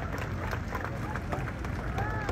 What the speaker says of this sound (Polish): jeszcze raz wielkie brawa dla zwycięzcy